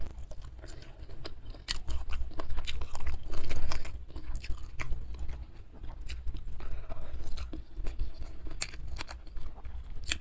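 Close, steady chewing and biting of tender squid in a sambal dish with crunchy side foods, a continuous run of wet crunches and soft clicks with no talking.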